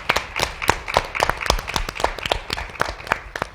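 A crowd at an activism event claps in renewed applause, with sharp, distinct hand claps in a brisk uneven rhythm and no talking.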